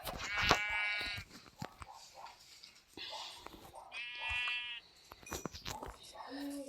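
Minecraft sheep bleating in a video game: several quavering bleats, clear and fairly loud, mixed with clicks and game sounds.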